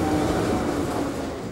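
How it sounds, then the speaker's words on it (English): A train rumbles steadily at Kawasaki railway station just outside Tokyo, a dense, continuous rolling roar of railcars with no voices, holding loud and even throughout. "This is Kawasaki railway station, just outside Tokyo."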